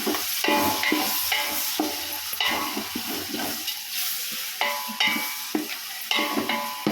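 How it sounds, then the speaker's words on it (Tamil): Tomatoes and onions frying for chicken biryani, stirred and pressed with a spatula in a pan: loud sizzling hiss broken by repeated scraping strokes in an uneven rhythm, close up, no talking. "தக்காளி சேர்த்து நல்லா தட்டி விட்டுக்கலாம்"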